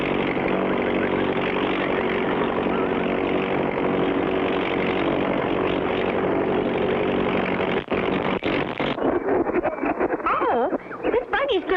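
A steady propeller-plane engine drones loudly in a 1959 Clutch Cargo cartoon, holding an even hum for most of the stretch before breaking up into sputters and a softer, uneven tail near the end.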